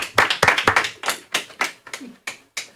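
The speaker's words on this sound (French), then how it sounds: "Redouane, sous vos applaudissements" Studio audience on a French television show clapping in unison: a run of about nine sharp, loud hand claps, close and evenly spaced in a steady rhythm, with no voices over them.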